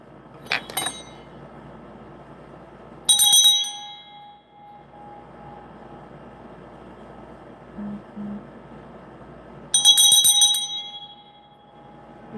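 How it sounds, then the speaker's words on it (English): A bell rung twice, each time a bright metallic clang that rings on with a sustained tone, the strikes several seconds apart over faint background hum. "So I'm going to ring the bell."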